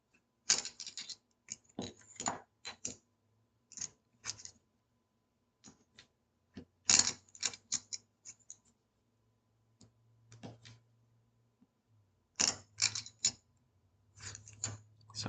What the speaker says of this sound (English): I'm shuffling these chips